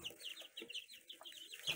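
Hens cluck in short, busy bursts, several birds chattering close by in a quick run of soft clucks.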